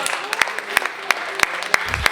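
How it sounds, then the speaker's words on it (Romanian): An audience at an improv comedy show applauds the performers, a continuous crowd clapping with sharp, regular accented claps standing out near the front, and some voices underneath. "Bun, și aplauze pentru colegi."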